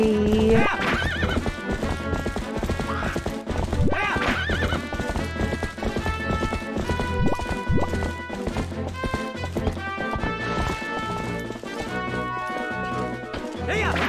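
In Zelda: Twilight Princess, rhythmic horse hoofbeats clip-clop along over busy game music while the horse whinnies loudly near the start.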